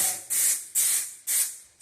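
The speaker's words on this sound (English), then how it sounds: "Once again, spray." Three bursts of spray-on adhesive or coating misted onto a drywall paper repair with fiberglass, each a sharp hissing blast that tapers off, close and loud with short gaps between.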